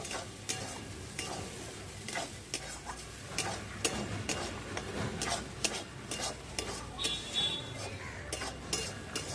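Dry mashed green peas being stirred and scraped in a pan with a metal spatula, a steady run of close scraping and clinking strokes with a faint sizzle underneath, no talking.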